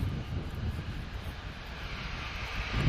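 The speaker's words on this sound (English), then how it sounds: "Norwegian Air 737-800 off to Stockholm" A Norwegian Air Boeing 737-800 departs Lisbon Airport, its jet engines producing a broad, steady roar that holds strong and close throughout, with wind buffeting the microphone.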